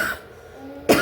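A single short cough bursts out at close range after a brief quiet stretch.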